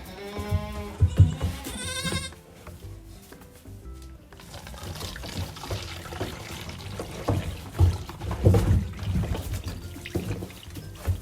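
A goat bleats a few times in quick succession near the start, then shuffling, rustling and handling noises continue close by.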